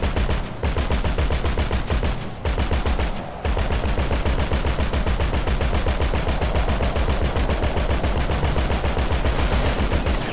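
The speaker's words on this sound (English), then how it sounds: "I'll just keep shooting rockets at him" Rapid, loud automatic fire in Grand Theft Auto V, a dense stream of sharp repeated bursts running almost the whole time with two brief pauses near the start, no talking over it.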